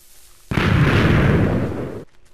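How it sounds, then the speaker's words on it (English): A Minecraft Beta 1.3_01 Fireworks mod rocket goes up and bursts in-game: one loud, broad explosive boom that hits abruptly and sustains for about a second and a half before cutting off, with no talking. "if you just click on it, it'll send one up in the air and it'll explode"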